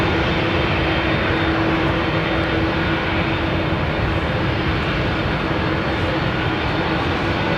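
Boeing 787 Dreamliner at Heathrow Airport producing a steady, loud, broadband engine roar that holds constant throughout, with no voices.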